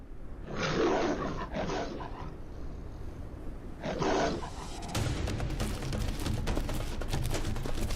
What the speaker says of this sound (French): Soudain, un rugissement retentit au bord de la vallée.